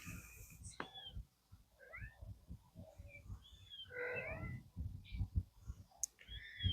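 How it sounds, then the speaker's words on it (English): Several small, high kitten meows from under a deck, faint and scattered, mixed with soft clicks and rustling nearby, with quiet ambient noise between the cries. "I hear the kittens under the deck."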